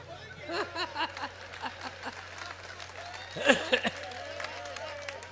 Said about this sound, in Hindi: ताली तो ऐसे बजा रहे आप लोग